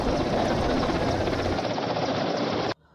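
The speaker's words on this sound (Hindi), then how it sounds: "आज जिला प्रशासन ने हेलीकॉप्टर से आग पर काबू पाने का इंतजाम किए हैं" Helicopter flying over a burning forest near Nainital, its rotor and engine a loud, steady broadband roar that holds unbroken for nearly three seconds before cutting off abruptly.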